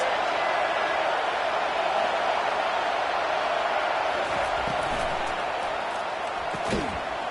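Stadium crowd roaring to help the defense at a college football game, a loud, sustained wall of noise with a few thuds near the end.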